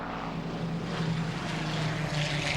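Griffon-engined warbird with Ray Hanna at the controls getting airborne, its 2000 horsepower engine giving a loud, steady propeller drone with a deep tonal hum that holds throughout.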